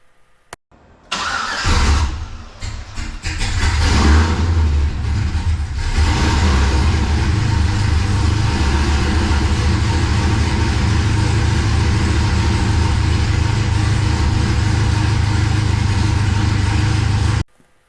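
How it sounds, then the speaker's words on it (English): A Cadillac CTS-V V8 with a BTR Stage 3 cam and headers into open electric cutouts cranks, fires and rises into a loud, lumpy choppy idle that rumbles steadily on, close and unaccompanied by talk. "let's listen to the sweet symphony of that BTR Stage 3 cam, speed engineering headers into open electric cutouts"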